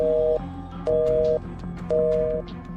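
A telephone tone in an audio drama after a call is hung up: three steady electronic beeps, evenly spaced and clear, over a faint low hum.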